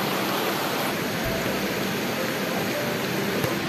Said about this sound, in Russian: Мост через бурную реку.